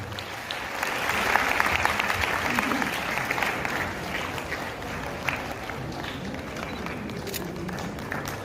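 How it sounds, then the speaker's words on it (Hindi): An audience at a Jain heritage day memorial ceremony applauds steadily, a dense, even wash of clapping that holds for several seconds before slowly thinning out. "जरा एक बार पुनः ताली।"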